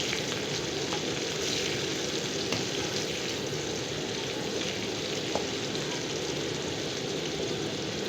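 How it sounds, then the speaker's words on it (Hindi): Green chillies fry in hot oil in a pan, a steady dense sizzle that runs unbroken and fairly loud throughout, with no talking over it. "हरी मिर्चें जब भी हम फ्राई करते हैं तो बहुत ही अच्छी खुशबू आती है।"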